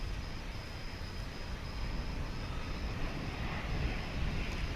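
A Boeing 777 on final approach at DFW International Airport makes a steady, broad jet-engine roar with a faint high whine, constant and moderately distant, with no talk.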